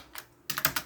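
A few quick clicks of typing on a computer keyboard, one isolated tap followed by a short burst of four keystrokes, close and crisp with no voices.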